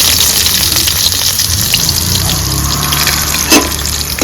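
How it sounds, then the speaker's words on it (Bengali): Chopped onions dropped into hot oil already tempered with a dried red chilli and nigella seeds, giving a loud, steady sizzle with a brief louder burst near the end and no voices. "পেঁয়াজগুলো আমি তেলে দিয়ে দিচ্ছি।"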